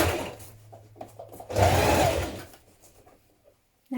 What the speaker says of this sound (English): So right side's facing, you're going to sew around this curved part.